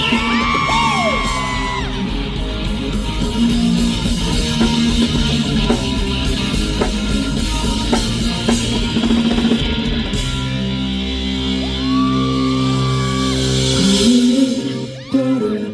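An outdoor festival crowd at a concert screams, whoops and cheers loudly and continuously over live band music, with bursts of yelling rising near the end.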